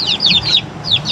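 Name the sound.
chickens clucking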